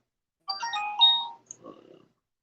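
A mobile phone ringtone plays a short melodic burst of bright electronic tones, clear and close, with no talking.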